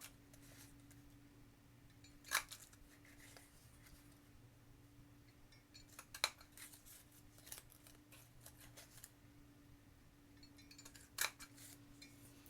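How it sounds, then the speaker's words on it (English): A scallop border punch clicks sharply through cardstock three separate times, each snap crisp and close against a quiet room hum. "I'm just going to cut them out with my scallop border punch"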